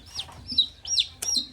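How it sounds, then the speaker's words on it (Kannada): Chickens squabble at a village temple fair, a quick run of sharp clucks and squawks in several bursts, close and fairly loud with no talking. "ಕೋಳಿ ಜಗಳ ಆಡ್ತಾವೆ"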